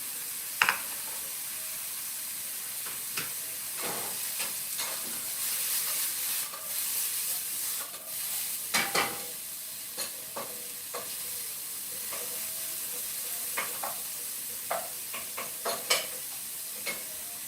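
Mushrooms sautéing in a pan give a steady sizzle and fry hiss, broken by scattered scraping stirs and light clicks of a utensil against the pan, heard close with no talking.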